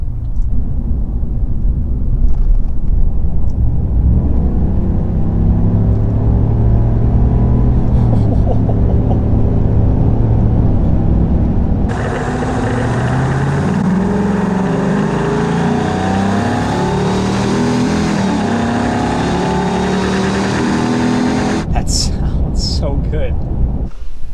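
Pickup engine of a 2020 Chevrolet Silverado Trail Boss fitted with a cold air intake and a revised exhaust, droning steadily at first, then swelling into a loud, sustained roar while accelerating, with intake whoosh and wind rush before easing off near the end.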